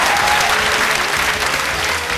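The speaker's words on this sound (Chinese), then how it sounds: "再给他们掌声一下好不好" Studio audience clapping for contestants on a televised singing competition show, a steady dense wash of applause filling the whole stretch at close, even loudness.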